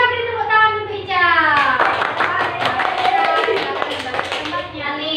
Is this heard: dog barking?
no